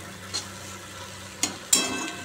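Very thinly sliced potatoes fry in a pan and start sticking to it. A low continuous sizzle runs throughout, broken by a few sharp spatula scrapes and stirs.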